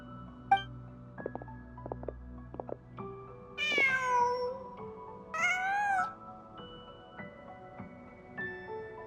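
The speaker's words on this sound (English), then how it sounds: "Just a cat." Cat meowing inside the Genshin Impact video game, two drawn-out meows a couple of seconds apart over quiet game ambience and soft background tones, fairly close and clear with no speech.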